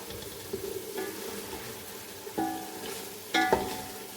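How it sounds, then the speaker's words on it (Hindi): Chicken pieces fry in a pot for white pulao, giving a soft sizzle with a few scraping stirs and clinks of a spoon against the metal. "अब मैं इसे 5 से 7 मिनट फ्राई करके अच्छी तरह चिकन का कलर चेंज होने तक पका के फिर दिखाती हूँ।"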